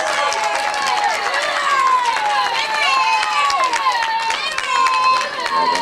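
Spectators at a British Kart Championship podium ceremony clap and cheer for a second-place karting driver, a loud, continuous mix of claps and excited voices.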